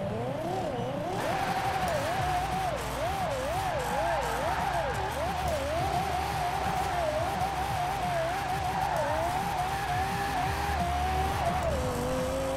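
Lexus LFA V10 in Forza Horizon 4, rear-wheel drive with 1200 horsepower, revving hard through gear changes with a wavering engine note and tire squeal, loud and continuous throughout.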